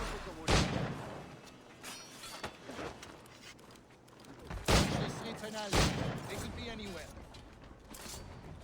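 Gunfire in the video game Assassin's Creed, with several sharp shots cracking out at irregular intervals amid mechanical clatter and a busy background, while someone speaks over part of it.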